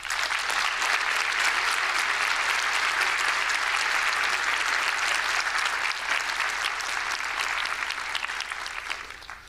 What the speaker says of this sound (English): Graduates, I invite you to recognize all of them now with a round of applause.